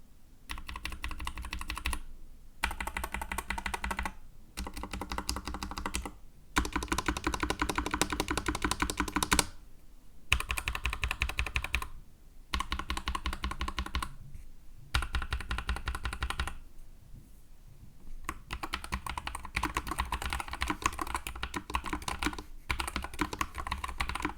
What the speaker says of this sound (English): I want to do a typing test and see how this thing feels.